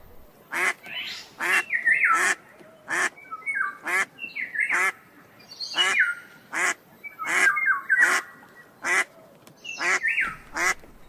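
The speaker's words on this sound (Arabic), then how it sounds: "بطة." Duck on a farm quacking in a steady series of short, loud bursts, roughly one call every second, close and alone without talk.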